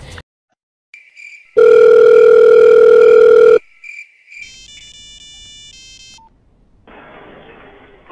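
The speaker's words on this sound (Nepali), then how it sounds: "ओइ राणाबान फेरि फोन गरिस्" A loud, steady telephone dial tone holds for about two seconds, framed by short electronic beeps and dialing tones, then quieter line noise and a faint hiss, during a phone call.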